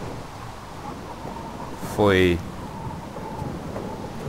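Steady rain hiss with a low rumble of thunder in Minecraft with the Tekkit modpack, fairly quiet, broken by a short spoken exclamation near the middle.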